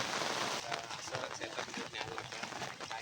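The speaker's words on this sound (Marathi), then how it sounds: "दुसरा दिवस आहे लावणीचा आणि पाऊस आलेला आहे" Steady rain falls on a flooded rice paddy during planting, a dense hiss of drops across the field, loudest at the start and continuing evenly throughout without pause.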